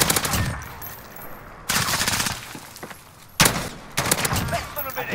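MP7 submachine gun and light machine gun fire in a shooter game, loud, sustained automatic bursts in three long stretches with short pauses, with a player talking over it.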